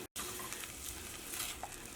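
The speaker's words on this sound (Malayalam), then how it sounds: "അതായത് തിളച്ച് തുടങ്ങിയിട്ടുണ്ട്" Cream sauce for a cheeseless frying-pan pizza simmers and bubbles while being stirred in the pan, giving a steady close sizzle with soft scraping, broken only by a brief silent gap at the start.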